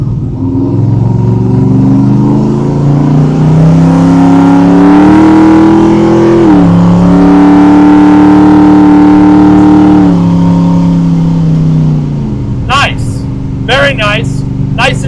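A 1968 Camaro Pro-Street V8 revs and accelerates loudly up close, its engine note climbing and dropping through repeated throttle pulls, with a person talking over the roar near the end.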